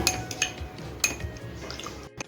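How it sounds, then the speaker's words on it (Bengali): A spoon stirring spices in a pan for prawn poppy-seed curry, with a few sharp metallic clinks and scrapes against the pan, close and distinct over quiet background. "ভালো করে একটু মিশিয়ে নিচ্ছি"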